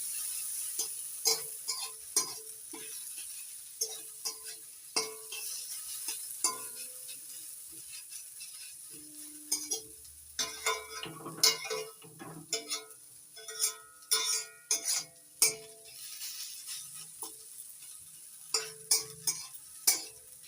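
Onions with a little salt being stirred and fried in a pan, with a steady quiet sizzle under repeated scraping and clinking strokes of a utensil throughout.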